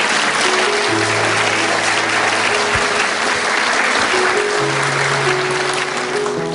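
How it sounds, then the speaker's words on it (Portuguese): Audience at a spiritual direction gathering applauding steadily, a dense, continuous wash of clapping that fills the whole stretch at close, loud level, with faint background voices and tones underneath. "Uma salva de palmas para vocês mesmos."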